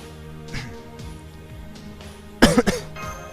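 A man's cough, a short cluster of two or three harsh bursts late in the clip, set over steady background music from a Fate Grand Order game session.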